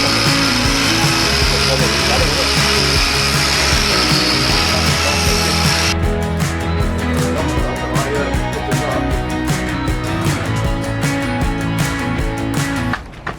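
A power tool grinds and saws loudly through plaster to cut back the line around a door opening for a composite French door frame, a steady harsh buzz that shifts to choppier, gritty cutting partway through.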